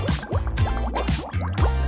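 Powder stirred into a bowl of warm water, with repeated sloshing and gurgling swishes of liquid, several quick strokes in a steady rhythm, close and fairly loud.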